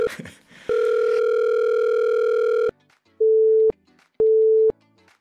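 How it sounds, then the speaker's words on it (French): Electronic telephone tones on a phone line: a long steady beep of about two seconds, followed by two shorter identical beeps separated by quiet gaps, loud and clean with no voices. "Toutes les fois qu'il y a une notification sur le téléphone, il change de couleur"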